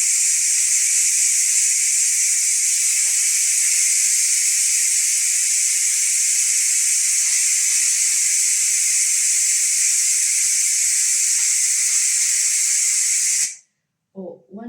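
Steam hissing steadily and loudly from an electric pressure cooker's release valve during a quick release after cooking dry beans, a continuous broadband rush lasting about thirteen seconds before cutting off abruptly, followed by faint clicks.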